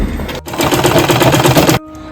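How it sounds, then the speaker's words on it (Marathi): A home sewing machine runs in one steady burst of rapid mechanical stitching, stitching a baby's quilted cotton godhadi along marked lines. It stops briefly near the start, then runs close and loud without a break before cutting out. "त्याच्यावर आपण मशीन शिलाई मारूया"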